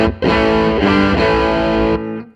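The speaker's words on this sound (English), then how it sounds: "Now the wah behind that sounds pretty cool." A distorted electric guitar plays through a wah effect on a Line 6 M13, holding a loud, thick sustained chord whose tone sweeps before it cuts off.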